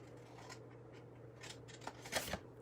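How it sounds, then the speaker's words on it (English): Scissors snip through cardstock while a card kit is trimmed, giving a few quick, crisp cuts near the end of a quiet stretch with a low steady hum underneath. "So I'm going to go ahead and I'm going to trim those out."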